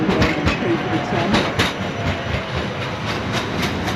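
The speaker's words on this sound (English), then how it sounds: "So that's a tram, for example." A tram passes on a street in Poland, with a loud, steady rumble of wheels on rails and light rhythmic clatter close by, along with faint background noise.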